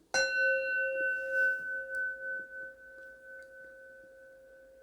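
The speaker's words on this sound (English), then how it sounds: "pause the recording after the chime." A single clear chime is struck once and rings out with sustained bell-like tones that slowly fade and pulse over several seconds in a quiet room.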